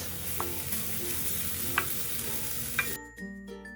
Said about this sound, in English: Add the carrot first, then the rest of the ingredients. Stir fry for about 1 minute on medium-high heat.